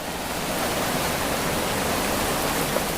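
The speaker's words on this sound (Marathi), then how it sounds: "पूर्ण पाणी पाणी झालेलं आहे शाळेमध्ये पण" Floodwater rushes through a school building in a loud, unbroken roar of flowing water. It stays near and steady from start to finish, with no voices.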